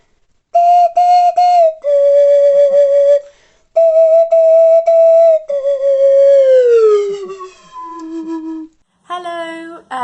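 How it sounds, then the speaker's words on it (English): A slide whistle toots in bright, bouncy notes, holding steady pitches, then swooping downward in a comic glide before a final short squeal. "where did I put that swanee whistle?"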